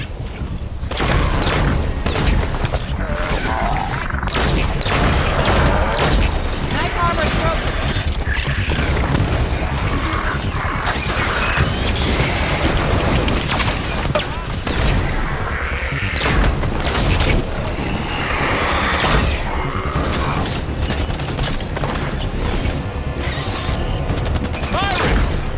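Halo gameplay with Spartans under attack: dense, loud gunfire and heavy explosion booms roll on without a break, and combat voices come through now and then.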